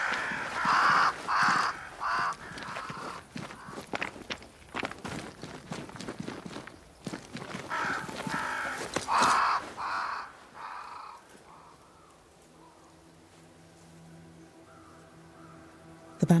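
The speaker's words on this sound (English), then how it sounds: "Crows. They flock to that great tree up there." Crows cawing in a video game, a flock gathering at a great tree, with repeated harsh caws in bursts over footsteps and ambient game sound before fading to a quieter drone.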